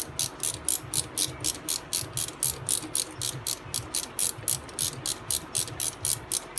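Last 12mm mounting bolt being ratcheted out of the A/C compressor on a 2007-2009 Toyota Camry 2.4, a close, steady train of quick, evenly spaced ratchet clicks with no talking.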